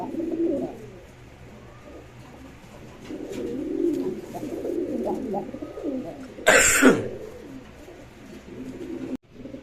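Pigeons in a sale pen, including a big female, give low throaty cooing calls throughout, close and moderately loud, with a sharp burst of flapping or scuffling partway through.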